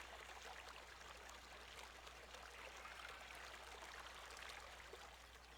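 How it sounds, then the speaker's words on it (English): Fast-flowing river water in Farming Simulator 17 rushes steadily, a continuous soft hiss of flowing water with no voices. "So we have a fast-flowing river here."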